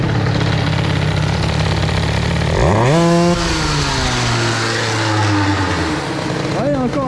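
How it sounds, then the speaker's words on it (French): An Airsal XT 77 boosted scooter engine idles with a rough, buzzing two-stroke note, then revs up sharply around the middle, holds a higher pitch, and settles back down, close and loud throughout. "Bon allez, on va remettre un petit coup de gazou."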